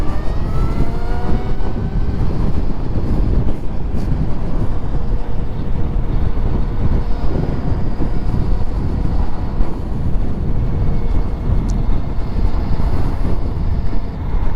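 A Honda Grom motorcycle swapped to a Tesla electric motor rides along, heard as a steady rushing roar of wind and road noise with a faint whine, close and continuous, with no talking.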